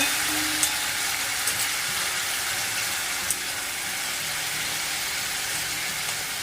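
Reddened garlic and a large tomato fry in a pan for a dry drumstick-pod vegetable dish, producing a continuous, even sizzle with a few faint clicks throughout.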